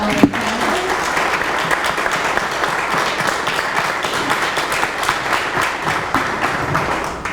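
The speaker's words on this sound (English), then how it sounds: "let's give a round of applause for our panel." Audience applauding a conference discussion panel, steady dense clapping from a crowd throughout, fairly loud and sustained with no talk over it.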